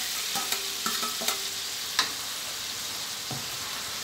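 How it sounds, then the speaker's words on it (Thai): Pork mask being stir-fried in a pan over a constant hiss of frying oil, punctuated by several light clicks and scrapes from a utensil, no voices. "ใส่หน้ากากหมูลงไปนะครับเนาะ"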